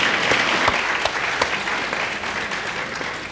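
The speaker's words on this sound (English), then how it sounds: "A round of applause for Prof." Conference audience at a bankers' annual conference applauding, a dense, steady round of clapping from a sizeable crowd that holds level for the whole stretch.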